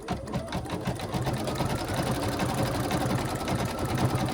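Sewing machine running steadily as it stitches through several thick fabric layers on a stuffed gnome body, a continuous close, even mechanical whir with rapid rhythmic needle pulses throughout.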